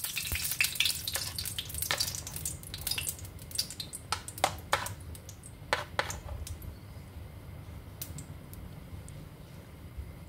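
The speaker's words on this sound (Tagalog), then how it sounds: "Mainit na ang mantika guys, no? Maglagay na tayo ng potato." Potatoes hit hot cooking oil, giving a soft, continuous sizzle broken by scattered sharp crackles and pops, fairly quiet, with no talking.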